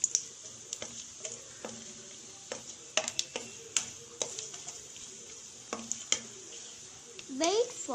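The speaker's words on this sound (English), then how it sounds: "add cashew and fry it" Cashews frying in a pan for carrot rice, with a soft steady sizzle broken by frequent sharp clicks and taps of a spoon stirring against the pan, plus a brief scraping sweep near the end.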